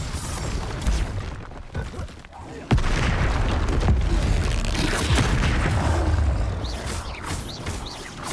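Spell effects from Hogwarts Legacy, Expelliarmus, Confringo and Diffindo, crack and boom in quick succession in a busy, continuous combat mix, with one sharp blast standing out near the middle.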